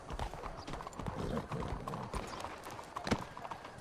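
Horse hooves clip-clop in a Western roleplay video game, a continuous muffled trotting rhythm at moderate volume with game ambience and faint voices underneath.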